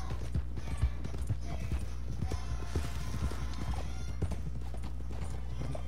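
Horse hooves clip-clop at a riding pace in Red Dead Redemption 2 Online, steady repeated thuds close by over a low constant rumble, with a brief whinny-like sound.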